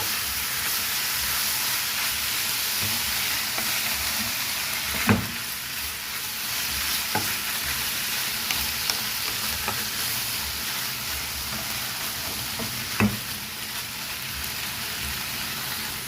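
Shredded chicken breast with sugar toasting in a pan, a steady close crackling sizzle running throughout, with a few sharp spatula knocks spaced several seconds apart, no talking.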